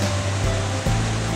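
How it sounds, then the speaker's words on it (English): A Wisconsin river pours over a series of small cascades through narrow rocky gorges, giving a steady, dense rush of falling water with a deep low roar, continuous and close, with no voices. "Here the river drops over a number of small cascades and through some narrow rocky gorges."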